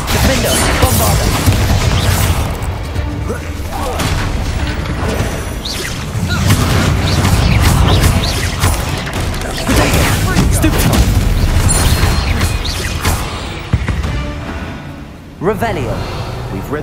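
Repeated booming spell blasts from a Bombarda casting in a spider-hunting fantasy duel, loud and dense, with crashing impacts layered over continuous battle noise and voices.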